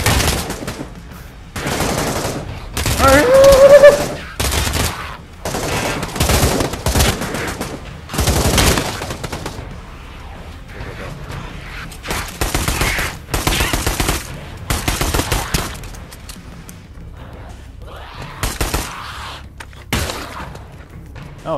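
Repeated gunfire bursts and single shots in the Pavlov VR zombie shooter, loud and near, coming in clusters with brief pauses throughout.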